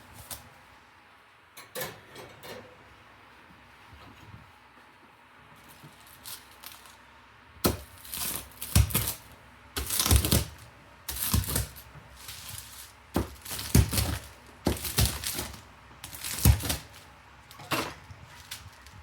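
Knife crunching through a crispy 12-inch thin crust Chicago style pizza, a series of sharp crackling cuts in several bursts after a quiet start, fairly close.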